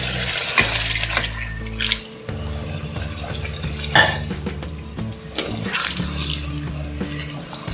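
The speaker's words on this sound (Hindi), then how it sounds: "पानी इसमें डाल देंगे।" Water splashes and pours into a cooking pot of chicken and potato curry, with clinks of metal utensils and pot sounds between pours, heard up close in a home kitchen.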